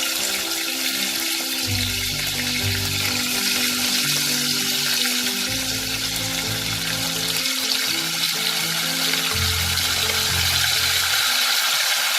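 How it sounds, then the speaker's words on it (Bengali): Chicken pieces fry in a pan with whole spices, including cardamom, for a shahi white chicken korma. A loud, steady, close sizzle runs without a break, with no speech. "এই চিকেন পিসগুলো আমার একটু ভাজা ভাজা হয়ে গেছে"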